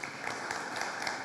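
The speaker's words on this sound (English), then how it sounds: "let's give him a round of applause" Applause at a Veterans Day ceremony at The Woodlands Township, heard as a brief, steady wash of clapping from a crowd, fairly faint and distant.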